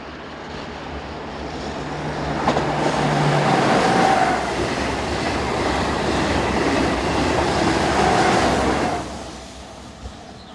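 TGV set 67, a French high-speed train running from Lyon-Perrache to Strasbourg, sweeps past northbound with a broad, loud rushing roar that builds, holds for several seconds and then fades.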